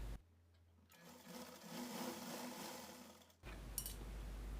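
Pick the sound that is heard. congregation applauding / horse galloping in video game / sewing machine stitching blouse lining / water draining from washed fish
sewing machine stitching blouse lining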